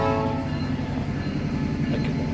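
Railroad cars being moved and bumped in a rail yard in an industrial neighborhood nearby, giving a steady, loud rumble with a low metallic drone and rolling rattles throughout, with no talk.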